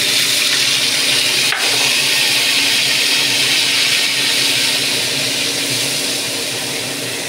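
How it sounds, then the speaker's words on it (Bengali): Cumin and black cumin seeds sizzle in hot oil for a fish curry, giving a loud, steady hiss that fills the whole stretch and eases slightly toward the end. "তেলের মধ্যে আমি একটু জিরে আর কালো জিরে ফোড়ন দিয়ে দিচ্ছি"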